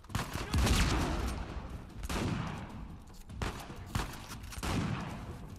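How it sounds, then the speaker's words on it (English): Gunfire in the video game Uncharted 4 comes as several separate loud bursts of shots, spaced a second or so apart, each followed by a decaying echo. "They're gunshots."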